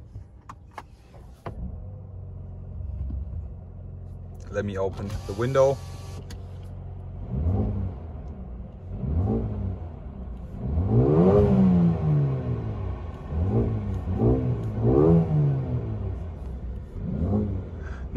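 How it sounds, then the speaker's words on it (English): A Mercedes-AMG A35 sedan in Sport Plus mode starts up, and its engine revs in repeated rising and falling sweeps. Someone speaks over it, and a power window whirs briefly. "Let me now start up the car and we will be demonstrating you the sound of this beast"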